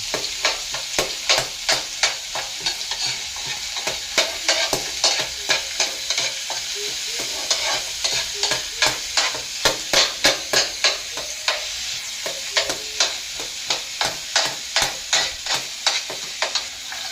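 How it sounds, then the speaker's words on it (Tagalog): Onions sauté in a pan for chicken liver and gizzard adobo, a steady sizzle broken by regular scraping strokes of a spatula, close and loud with no talk. "isahin natin yung sibuyas yung hanggang maging golden yung kulay niya."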